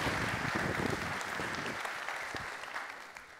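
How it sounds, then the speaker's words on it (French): Conference audience applauding a presentation on data, a dense burst of clapping that slowly thins and fades toward the end. "Merci, applaudissez-les bien fort."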